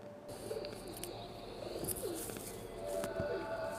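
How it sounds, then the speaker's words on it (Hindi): Pigeons coo softly in low, rolling calls, with a few faint bird chirps and light background noise. "कबूतर का एक जोड़ा बालकनी में गुटरगू कर रही थी।"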